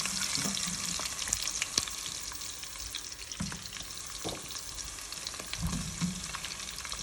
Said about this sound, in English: I want to fry this whole thing into that yam.